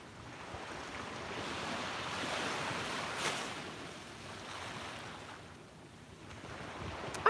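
Ocean waves wash onto a beach at sunrise, a steady broad surf roar that swells and recedes with some wind buffeting the microphone, no talking.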